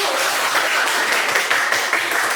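A crowd claps in a steady, dense burst of applause, loud and close, with no voices standing out.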